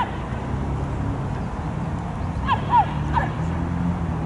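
A dog on a city street gives two or three short, sharp barks at moderate distance amid steady background traffic hum.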